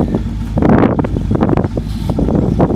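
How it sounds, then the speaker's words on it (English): Strong wind buffets a microphone outdoors, producing a loud, continuous low rumble with uneven gusty surges and no voices. "it's so windy out here"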